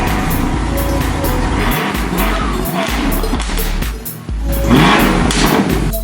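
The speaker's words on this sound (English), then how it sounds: "this car sounds a lot better than I ever imagined it would." A Ford Thunderbird rally car with a new exhaust roars loud and close, its engine revving and droning with tire noise and a brief dip in the note before it swells again, with no talking.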